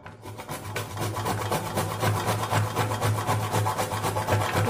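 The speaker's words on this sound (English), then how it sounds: "I'm going to grate it." Peeled bottle gourd (lauki) grated by hand for kofta, a close, continuous rhythmic rasping of quick strokes with a steady low hum beneath.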